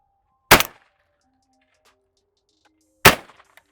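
A Fabarm L4S semi-auto shotgun fires two sharp, loud shots at clay targets a few seconds apart, each fading quickly in open quiet.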